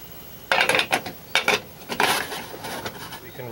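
A metal pot knocks and clatters while browned ground beef is drained for chili, several sharp clanks and scrapes close up in short bursts with pauses between.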